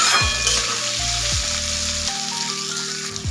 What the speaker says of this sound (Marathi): मी इथं लसूण 10-12 पाकळ्या आणि अद्रकचे 5-6 तुकडे घेतलेले आहेत, हे सुद्धा आपल्याला आता याच्यासोबत तळून घ्यायचे आहेत।